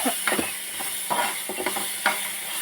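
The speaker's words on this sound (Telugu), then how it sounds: "ఎండుమిరపకాయలు వేసి తాలింపు వేస్తున్నాను" Dried red chillies tempering in hot oil for lemon pulihora, a close bright sizzle with bursts of crackle and spatula scrapes in an uneven rhythm.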